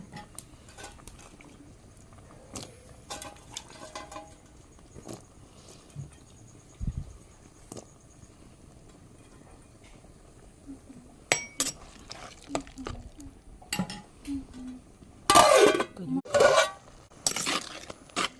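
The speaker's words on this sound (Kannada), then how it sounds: "ಈಗ ನಾನು ಆಲೂಗಡ್ಡೆಯನ್ನು ಹಾಕ್ತೇನೆ" Potatoes added to a pot of cooking field beans, scattered clinks of a utensil against the pot with splashes and stirring, louder clattering near the end over a quiet background.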